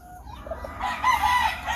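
A fighting rooster crows once, close and clear, a drawn-out call building over a second or so against a quiet rural background.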